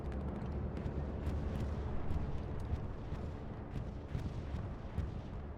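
Explosions from a bombing run in a war video game, a dense rumbling barrage of low booms with scattered sharper cracks and pops, rolling on continuously at moderate loudness.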